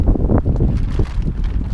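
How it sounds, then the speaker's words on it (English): Wind gusting at a spring campsite in bear country, buffeting the microphone with loud, close, rumbling blasts that roar steadily throughout. "The wind completely changed directions on me."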